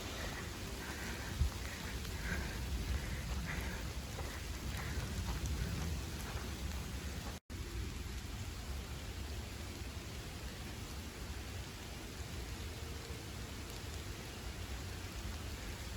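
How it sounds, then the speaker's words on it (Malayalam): Heavy rain pours down steadily and close by, a constant dense hiss of drops on surfaces with no break in intensity apart from one brief cut. "മഴ സൗണ്ട് കേൾക്കണില്ലേ? അത്യാവശ്യം നല്ല മഴ ഇത്."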